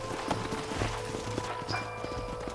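Horses' hooves clip-clop in Red Dead Redemption, a quick irregular patter of hoofbeats at moderate distance over low ambient game sound.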